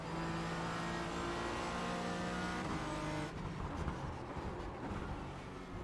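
A BMW GT4 race car in the iRacing sim drives past at Montreal, its engine a steady droning whine that holds level, then thins into rougher gritty noise as it goes by, with no voices over it.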